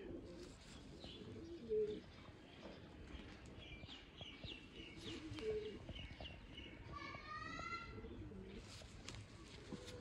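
Soft, low coos of Kasuri pigeons repeat steadily through a hushed background, with a few faint chirps from other birds nearby.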